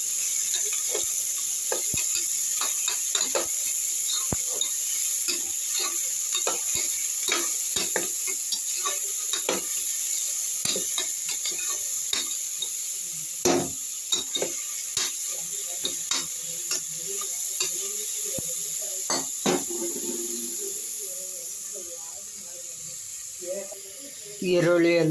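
Onions fry gently on low flame in a pan, giving a steady soft sizzle with scattered crackles and occasional stirring scrapes, faint and continuous throughout with no talk.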